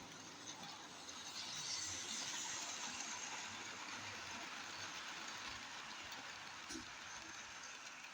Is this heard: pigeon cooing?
no